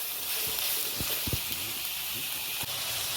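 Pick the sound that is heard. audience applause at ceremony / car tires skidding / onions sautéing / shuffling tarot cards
onions sautéing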